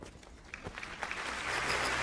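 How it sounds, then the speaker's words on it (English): Applause from a House of the Dragon episode, starting as a few scattered claps and swelling into a dense, loud wash of crowd clapping by the end. "Not the applause!"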